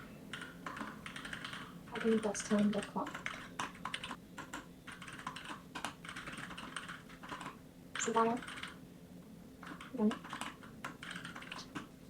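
Keystrokes on a new computer keyboard clatter steadily at close range while coding in Python, with someone talking over much of the typing.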